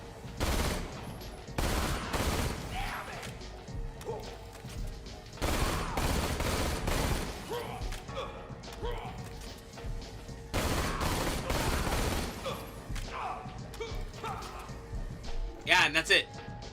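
Bursts of gunfire from a Hyperion Invader sniper rifle in Borderlands, burst-fire weapon, firing in loud clustered volleys with gaps between, a voice talking over much of it.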